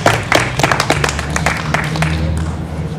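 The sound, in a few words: crowd applause at a rally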